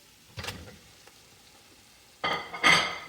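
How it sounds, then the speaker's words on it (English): Frozen molokhia (jute mallow leaves) dropped into a hot pan with garlic and coriander, a short scrape early on, then a loud burst of sizzling that swells and crackles near the end. "I'm gonna add my coriander now. I'm gonna add my Molokhia."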